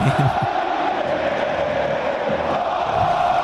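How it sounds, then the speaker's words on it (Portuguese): A Bahia football crowd roars and cheers in a dense, continuous wash of many voices, loud and unbroken throughout. "Eu boto o som da torcida do Bahia"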